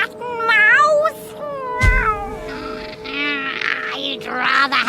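Cats meowing and caterwauling in a radio drama, with several loud, close, wavering yowls and cries rising and falling in pitch, one thump partway through, over roughly five seconds.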